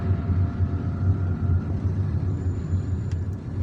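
Car driving through the streets of Algiers on a weekend day, a steady low engine and road rumble running throughout, with a faint high whine near the end.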